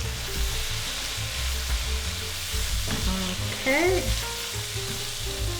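Shrimp with butter and chopped tomato frying in a pan, a steady close sizzle and bubbling throughout with some stirring scrapes, plus a brief spoken word partway through.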